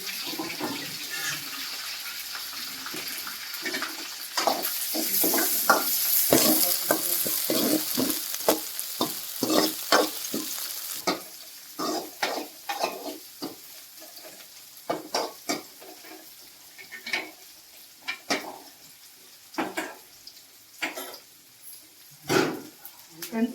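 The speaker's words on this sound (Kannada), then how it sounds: "ಉಳ್ಳಾಗಡ್ಡೆ ಬೇಯಿಸಿ ಫ್ರೈ ಆದಮೇಲೆ ಮೆಣಸಿನ್ಕಾಯಿ ಹಾಕ್ತೀನಿ" Onions fry in a pan in a home kitchen, with irregular scraping stirs and bursts of sizzling, along with running water and clinking nearby. A person talks over the cooking in places.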